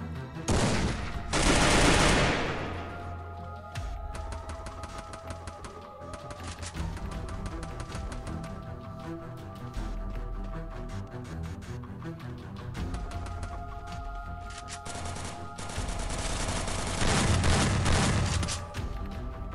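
Shotgun and other gunfire in the online battle game Free Fire: dense bursts of shots and booms run throughout, loudest at the start and near the end, with busy game effects between blasts.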